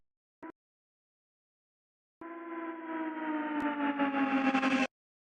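Low bass tone from music production, a short blip followed by a sustained buzzy synth note that holds and swells for a few seconds before cutting off abruptly.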